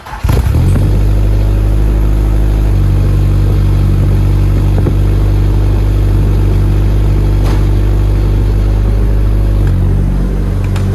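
A Nissan S13 idling to warm up in below-freezing cold, a loud, steady engine drone with a deep low rumble throughout, after a brief start at the beginning.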